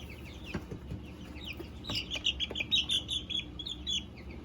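Young barred rock chicks peep and chirp in quick, bright bursts, several calls clustering in the second half, close and clear over a low indoor background with a few soft bumps.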